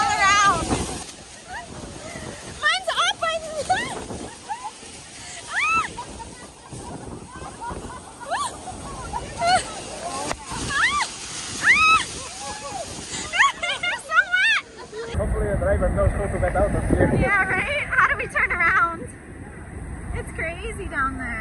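Niagara Falls thunders close around the Maid of the Mist tour boat, a broad rushing roar of falling water and spray that swells loud and steady in the final seconds after a stretch of wind and excited voices.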